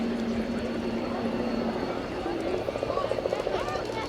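RAF Tucano T1 turboprop trainer flying past at a Royal Navy air display at Yeovilton, a steady droning propeller roar heard at a distance beneath continuous announcer commentary.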